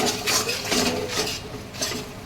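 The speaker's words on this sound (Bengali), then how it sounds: "তো এবার ভালো করে নেড়ে নিলাম।" Spiced dal with potato and pointed gourd being stirred in a pan, a utensil scraping and clinking against the metal in a few uneven strokes, close and clear with no talking.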